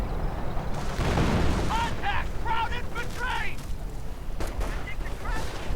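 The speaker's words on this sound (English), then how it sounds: "Artillery against the Panzer IV." Artillery shells pound a Panzer IV in a World War II strategy game, with a series of sharp blasts and rumbling impacts at moderate distance over a steady battle din.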